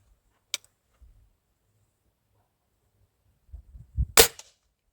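An old pellet rifle fires once with a sharp, short crack, preceded by a faint click and some low thumps in an otherwise quiet setting.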